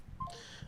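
Telephone keypad dialing tones: a short burst of touch-tone beeps, clear and alone over faint background noise.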